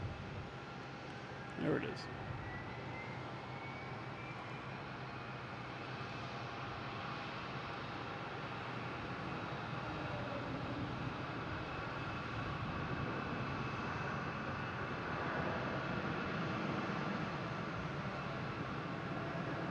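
An airplane landing at Boston Logan airport, heard as a steady, fairly distant broadband jet roar that holds throughout and swells slightly toward the end, with brief talk near the start.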